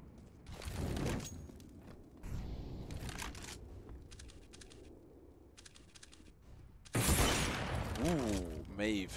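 AWP sniper rifle fire during a CS:GO esports match, with sharp broadband bursts standing out amid busy game sounds and ongoing commentary.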